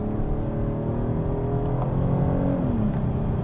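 A Kia K8 3.5 V6 naturally aspirated family sedan in sport mode, its engine revving with a steady, droning tone that climbs and shifts slightly, heard from inside the cabin without talking.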